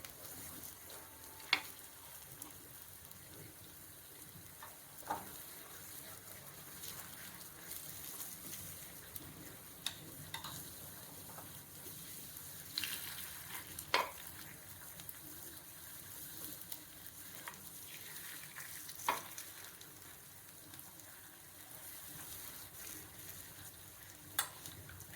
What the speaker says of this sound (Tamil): இது கொஞ்சம் ஸ்லோ ஃப்ளேமில் குக் ஆகட்டும்.